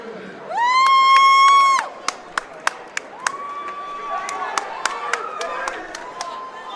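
A crowd at a high school varsity boys wrestling dual meet gives a loud burst of cheering, followed by scattered whistles, claps and shouts over a lively gym murmur.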